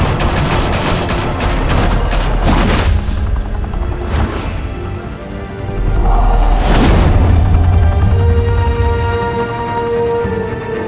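Gunfire from Batman: The Telltale Series: loud volleys of shots in dense bursts, then a pause and another sharp burst, with a heavy low rumble underneath.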